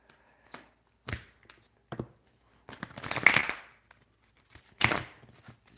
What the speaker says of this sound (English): maybe get a couple shuffles in here